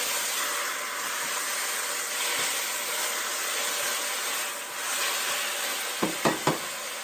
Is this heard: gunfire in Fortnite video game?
no